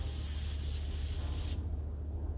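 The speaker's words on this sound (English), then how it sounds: "But it does spray paint very, very good." A Grex XGi2-ES airbrush with a 0.2 mm nozzle sprays paint in a loud, close, steady hiss that cuts off abruptly partway through, leaving a low background hum.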